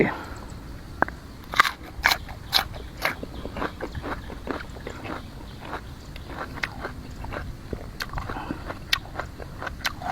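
Fresh lotus stems crunched and chewed close up, with a series of sharp crisp bites and crackles that come in irregular bursts and then settle into softer, steady chewing.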